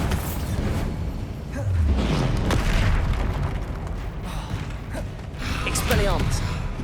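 Bombarda spell explosions in Hogwarts Legacy, deep booming blasts that swell twice over continuous combat noise, with a voice shouting spell names.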